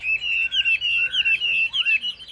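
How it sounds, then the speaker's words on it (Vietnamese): A purebred hwamei (Chinese melodious laughingthrush) songbird sings alone at close range, a steady stream of clear whistled phrases with quick trills and slurred notes, barely pausing between bursts. "Hôm nay em lên với các bác một em họa mi thuần đét đẹp"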